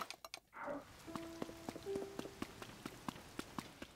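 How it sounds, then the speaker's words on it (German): Rain falls in the video game Zelda: Tears of the Kingdom as a soft, faint patter, with quick footsteps and light tonal game chimes layered over it. "es regnet natürlich"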